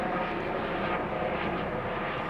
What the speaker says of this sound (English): And there's that helicopter again. So something's going on. He's flying fairly low.